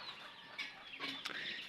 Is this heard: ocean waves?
no